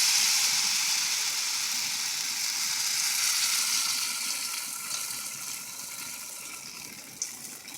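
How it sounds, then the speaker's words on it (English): Pancake batter sizzles steadily in a hot frying pan, a continuous bright crackling hiss that stays fairly loud before easing slightly toward the end, with one small sharp tick near the close. "so I'm adding the batter to the pan"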